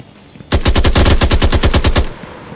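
A single loud, fast burst of assault rifle fire in an Unreal Engine 5 game, about fifteen rapid evenly spaced shots over roughly one and a half seconds, then a brief tail, with no voices.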